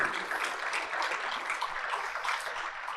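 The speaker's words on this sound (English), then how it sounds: "Give yourselves another round of applause." A tech keynote audience breaks into a round of applause, a steady wash of many hands clapping at moderate distance, with no talk over it.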